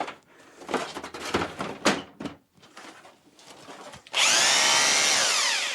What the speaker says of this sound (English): How about hammer drill? This ought to make an ugly sound.